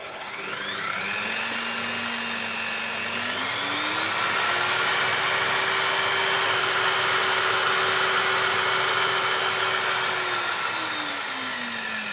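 A Bosch PBD 40 bench drill press motor starts up, whines steadily as it rises to a higher speed, holds a loud constant hum, then begins to spin down near the end, with no talking.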